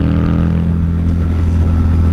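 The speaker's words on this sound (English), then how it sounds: "But you can see how high it's revving up." A 2016 Harley-Davidson V-Rod Muscle motorcycle engine running at high revs, a loud, close, steady low drone with a strong throbbing rumble that holds throughout, with no speech.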